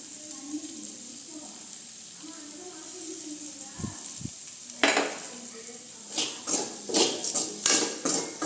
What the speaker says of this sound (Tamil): இந்த மாதிரி அடிக்கடி நல்லா கிண்டி போட்டே இருக்குதுங்க